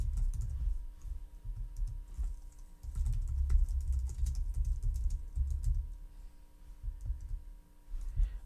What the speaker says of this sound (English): right now I am typing out the scene as I'm seeing it.